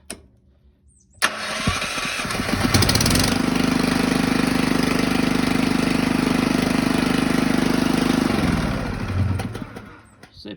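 A car starter motor undergoing a bench test after rewinding and armature checking, clicking on abruptly, whirring at a steady pitch for about seven seconds, then winding down to a stop.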